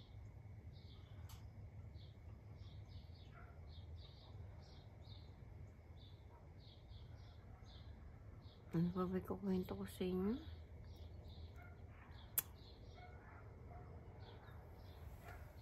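Faint, repeated chirps from small birds sound at a distance in a quiet outdoor setting in Texas, while someone speaks briefly partway through.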